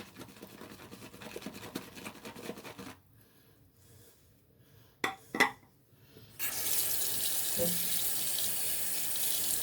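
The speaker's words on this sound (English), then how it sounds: "Let's add a little more water." A bathroom tap runs steadily into a shaving bowl holding Pinaud Clubman lather cream, a continuous hiss of splashing water following quieter rubbing and a couple of knocks.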